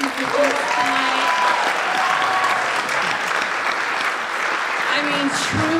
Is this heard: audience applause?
yes